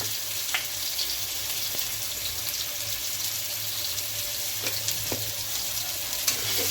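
Turmeric fries for shukto in a pan, a steady close sizzle with faint crackles and occasional sharp ticks of stirring, continuous and fairly quiet with no talking.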